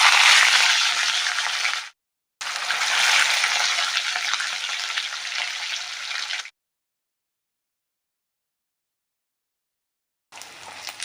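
Katla fish sizzling loudly as it fries in hot mustard oil in a kadai, a steady hiss that cuts out briefly and then stops, with a short return near the end.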